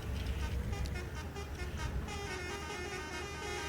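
Road traffic with a sustained car horn tone and a low engine rumble, continuous and moderately loud, with faint voices underneath.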